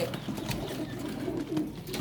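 Pigeons cooing on a farm: soft, low, throaty coos repeat steadily over a faint background hum, close by and with no voices.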